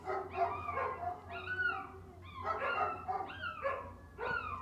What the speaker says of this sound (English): Oh my God, the dogs are going to start.